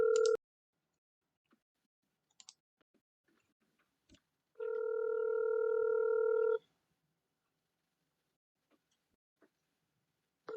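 Telephone keypad tones sound while a call is being placed: a short tone burst, a few faint clicks, then one steady two-second dial tone, followed by quiet and another brief tone at the end.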